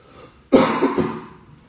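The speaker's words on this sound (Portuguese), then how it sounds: "desculpa eu tossir assim toda hora" A single close cough bursts out after a short silence, then trails off with a rough, breathy tail.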